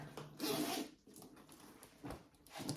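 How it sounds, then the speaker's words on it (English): Zipper on the pocket of a vinyl handbag being pulled, a close, raspy sliding run with a couple of short separate pulls afterward, alone without talk. "I did a zipper pocket"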